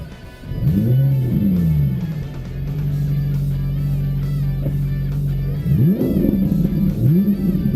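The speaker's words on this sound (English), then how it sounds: "It'd be a waste not to rev it." Ferrari 458 Italia engine revved hard from standstill, two loud rising and falling blips framing a steady high idle in between, close by and with no talk.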